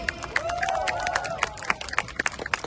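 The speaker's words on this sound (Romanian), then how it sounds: "Încă o dată aplauze pentru ei!" A crowd at a stage show at Romexpo claps and cheers, dense handclaps packed together, with a rising cheer or whistle running through the middle, loud and close.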